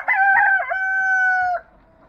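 A rooster at a backyard chicken setup lets out one loud, close crow, a sustained drawn-out call lasting over a second before cutting off into quiet.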